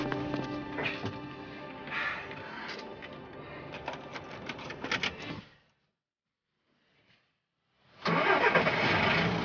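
Car engines start and run loudly in a German TV crime drama scene, a dense roar that cuts to near silence, then surges back just as strong.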